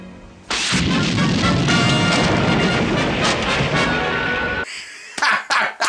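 A film scene of a castle collapsing: a sudden massive roar of crashing stone and rumbling debris that holds loud and dense for about four seconds, then cuts off, leaving a few scattered sharp impacts.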